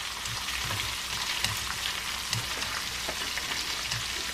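Tomatoes fry in oil in a pan with a steady, soft crackling sizzle, fairly quiet and continuous, with no voices.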